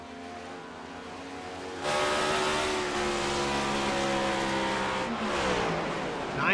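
A race car in a stock car racing video game at Dover rolls down pit road, a steady engine drone that grows louder after a couple of seconds and holds with a rising pitch shift near the end.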